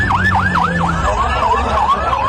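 A fire brigade vehicle's siren wails in quick repeating up-down cycles, then shifts to a slower sweeping tone, moderately loud against steady traffic and engine rumble at a crash and fire scene.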